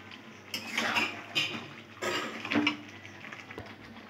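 Chicken is slow-fried in a pan while being cooked down with spices, heard as soft sizzling broken by scraping and clinking of a spoon against the metal pan in a few separate bursts.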